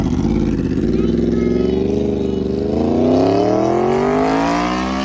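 A sport motorcycle with a crossplane crankshaft, a 200-horsepower track-focused machine, roars loudly and close, its engine pitch climbing steadily in one sustained rev-up.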